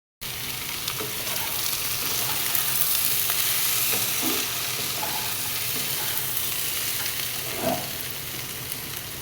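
Capsicum fries lightly in a pan with paneer nearby, a steady, even sizzle that stays close and constant throughout, with a few faint stirring scrapes and no talking.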